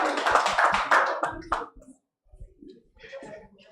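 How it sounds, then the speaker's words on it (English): A seated audience at a report launch on Nigerian frontline health facilities gives a short burst of applause that fades out after a couple of seconds, leaving near silence with faint sounds afterward. "Please a round of applause for him, ladies and gentlemen"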